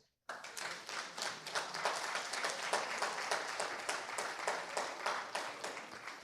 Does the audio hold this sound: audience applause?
yes